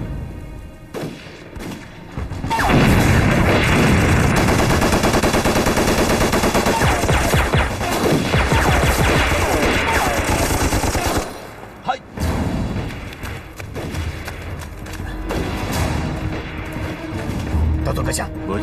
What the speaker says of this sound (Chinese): 现在开始我们就在这儿开枪